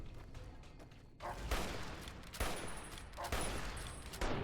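Hunting rifle gunfire in Fallout New Vegas: several loud, heavy shots at uneven intervals, each with a booming tail that runs into the next.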